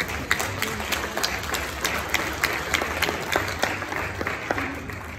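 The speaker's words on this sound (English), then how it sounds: "I'd like to give a hand of applause to everybody that worked on this" Steady applause from an audience, many hands clapping densely and continuously throughout, fairly loud and close.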